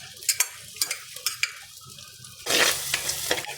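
Crushed ginger, garlic and onion sauté in hot oil in a clay pot. A spoon stirs with scraping knocks, then a louder burst of sizzling rises and holds, close by.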